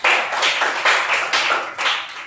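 Classroom applause for a student after a poetry reading, a small group of close, loud claps coming in uneven bursts with short gaps between them.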